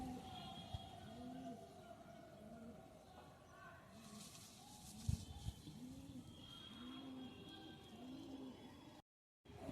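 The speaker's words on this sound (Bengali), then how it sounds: "একটা সায়নপুরি নাপ্তা নর পাট্টা পায়রা" A male Sayanpuri pigeon with a ringed neck coos in a low, repeated rhythm. The cooing is fairly soft and close, with faint background noise throughout.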